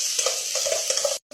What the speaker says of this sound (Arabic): هنحط معلقه ثوم ونشوح فيها كده لحد ما تاخد لون كده ذهبي